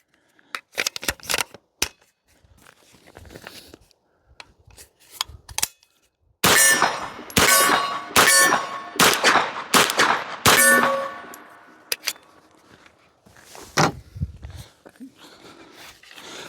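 Magazines clacking and clanging into a Palmetto State Armory AK-V 9mm carbine, a mix of Scorpion-pattern and PMag mags, with sharp metallic clicks, a dense burst of rattling insertions in the middle, then scattered quieter knocks.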